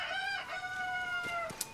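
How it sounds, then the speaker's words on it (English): A chicken in the game Zelda Tears of the Kingdom gives a drawn-out, crowing-like cluck with a few rising squawks, fairly faint and heard alone without speech. "It's a chicken. It's just a chicken."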